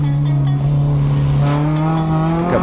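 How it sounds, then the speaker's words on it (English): Renault Clio race car at full throttle on a circuit, engine droning steadily while the tires spin and squeal, the pitch climbing toward the end, loud and close with no talking. "Pick up quite a bit of wheel spin."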